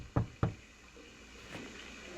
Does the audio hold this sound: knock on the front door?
yes